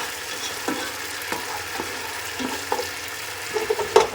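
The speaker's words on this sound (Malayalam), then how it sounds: "അതും കൂടിയിട്ട് ഇട്ട് നമുക്കൊന്ന് മിക്സ് ചെയ്തെടുക്കാം" Chicken fry masala sizzles in a pan, and a spoon scrapes through it in a few distinct strokes over a steady frying hiss. The stirring clinks grow busier toward the end, with no voice.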